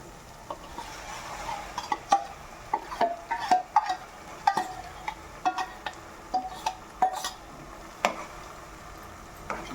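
Tomato puree stirred into frying ginger-garlic paste in a pan for a country chicken curry: repeated clinks and scrapes of a spoon against the pan at an irregular rhythm, close by, over a low background sizzle.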